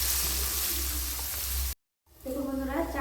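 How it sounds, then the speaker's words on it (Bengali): Beans salted and frying in a pan give a steady sizzle under a utensil stirring them, then the sound cuts out briefly and a softer sizzle resumes. "দিয়ে আবার একটু নেড়ে চেড়ে দিই।"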